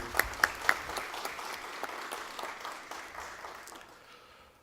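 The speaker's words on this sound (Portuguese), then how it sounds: "uma salva de palmas para o padre também" An audience claps for a priest at a municipal community event, a few sharp loud claps at the start before the applause thins into scattered, fading clapping that dies away to near silence.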